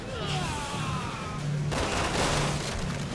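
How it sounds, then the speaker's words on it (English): Several gunshots fired in Resident Evil 6's Mercenaries mode on the High Seas Fortress map, with bursts of fire over steady game noise and ambience, loud and close. "So there, I've shot that guy's legs."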